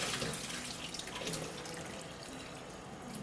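Tap water runs steadily in a kitchen sink while dishes are rinsed during Thanksgiving cooking, a continuous close hiss and splash with no talking.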